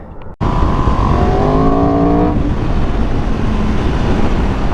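Aprilia motorcycle engine roaring loud and close through a long exhaust, with rising harmonic revs that climb and then settle into a steady, sustained drone.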